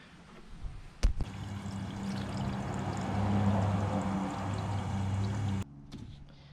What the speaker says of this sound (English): So now we'll start filling the radiator with coolant